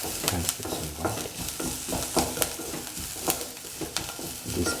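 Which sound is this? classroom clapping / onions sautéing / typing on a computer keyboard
onions sautéing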